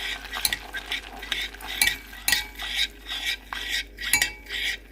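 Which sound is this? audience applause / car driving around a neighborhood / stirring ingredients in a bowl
stirring ingredients in a bowl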